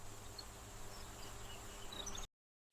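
Periodical cicadas of the genus Magicicada keep up a steady, dense, overwhelmingly loud buzzing drone with a high shrill tone above it, running unbroken for about two seconds before cutting off abruptly into silence.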